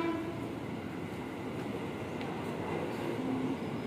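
A train at Depok Lama railway station gives a steady, fairly distant rumble with faint horn-like tones, heard alone as one continuous roll.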